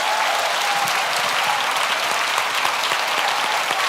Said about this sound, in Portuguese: Vamos aplaudir a sonoplastia da igreja